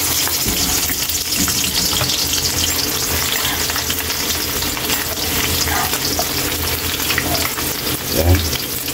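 Garlic frying in a pan until golden brown, a steady close sizzle and crackle throughout, with a brief clatter near the end.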